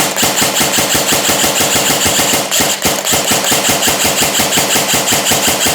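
A rapid, steady stream of mechanical shots from an ICS Schwaben Arms SAR airsoft rifle, evenly spaced and loud, with a brief break near the middle.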